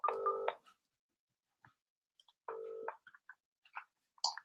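A phone line's ringing tone sounds in two steady electronic bursts about two seconds apart, each roughly half a second long, with faint clicks between them.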